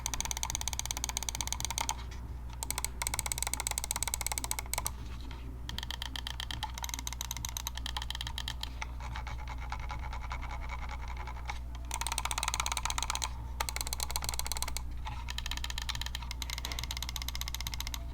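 The buttons of a Garuda Gear Eagle 1 gaming mouse are pressed in quick runs of small, crisp clicks, close but quiet, with short pauses between bursts.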